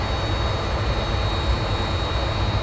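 Jet airliner at an airport runway during takeoff, a steady broad roar with deep rumble, loud and continuous, no speech.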